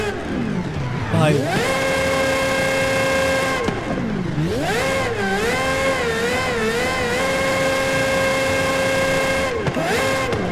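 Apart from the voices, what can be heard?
car engine revving in neutral, Forza Horizon 5 video game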